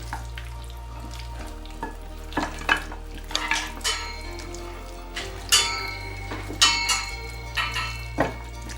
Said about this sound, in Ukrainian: Добавляємо ще два наших ребра, щоб всі гарно були промариновані.